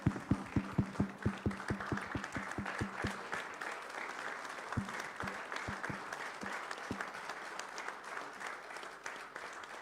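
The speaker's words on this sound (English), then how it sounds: "So I think we need to give him a round of applause and a standing" An audience at a community organisation event gives a round of applause, starting with loud, rhythmic unison claps that loosen into softer, scattered clapping with occasional sharp claps, at a steady moderate distance.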